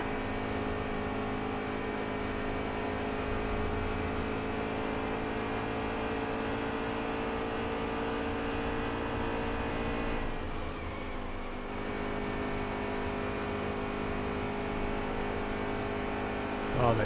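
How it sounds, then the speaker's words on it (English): In NASCAR Heat 3, an Xfinity race car at Kansas strains out of a corner with a steady, droning engine hum and a brief dip partway through, heard under other cars and race audio. "Oh, that engine sound is just horrible. Engine struggling so badly coming off the corner."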